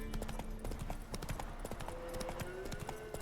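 Horse Roach's hooves clip-clopping in The Witcher 3: Wild Hunt, a quick, steady run of close hoof beats over a low game background, with a faint voice now and then.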